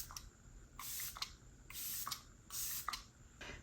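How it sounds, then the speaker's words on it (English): Makeup by Mario setting spray hisses in several short close bursts, about four puffs separated by brief pauses, with faint clicks of the nozzle between sprays. "we're gonna go ahead and spray with the Makeup by Mario setting spray"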